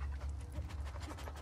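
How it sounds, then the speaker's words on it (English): A dog in The Last of Us Part 2 video game pants and sniffs in quick, breathy bursts, steady and soft, with no voices over it. "Kill the dog!"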